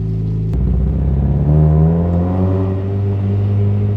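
Mazda Miata engine revving as the car pulls away, a sharp blip then rising, climbing engine tone that settles into a steady close drone, with no voices.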